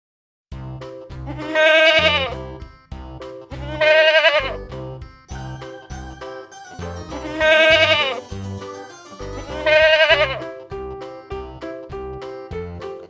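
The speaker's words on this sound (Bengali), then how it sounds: "ছ ছয়ে ছাগল ছানা লাফিয়ে চলে" A goat kid bleats four times in a children's rhyme recording, each cry a loud, drawn-out wavering call of about a second, set over a steady rhythmic musical backing.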